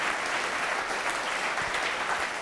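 An audience at a solar car team design presentation gives a round of applause, dense and even clapping that carries on steadily from start to finish.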